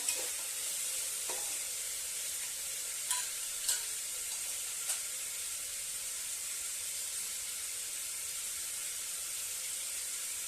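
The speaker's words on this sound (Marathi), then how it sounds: "आता आपण हे सगळ्या भाज्या टाकून चांगलं परतून घेऊया" Mixed vegetables including broccoli sizzle steadily in a pan for daliya khichdi, with a bright hissing fry and a few sharp utensil clicks as they are stirred.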